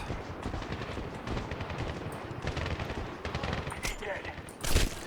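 Dense, rapid automatic gunfire from the video game Medal of Honor 2010, with continuous overlapping bursts and sharp shots close by, and a voice talking faintly underneath.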